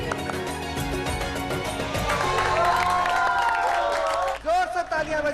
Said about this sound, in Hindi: जोर से तालियां बजाइए मेरी प्यारी सी ब्यूटीफुल वाइफ के लिए।